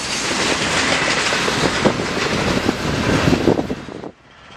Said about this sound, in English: Then the train finally got on its way with several classic Missouri Pacific hoppers